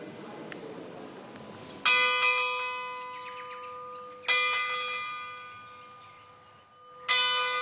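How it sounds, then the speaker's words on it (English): A bronze bell is struck three times at spaced intervals, and each strike rings out bright and loud before a long, shimmering decay. "Bells are made of bronze because of the sustained notes it produces and its corrosion resistance."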